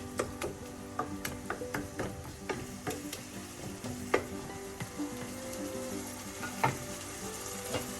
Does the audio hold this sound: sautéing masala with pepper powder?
yes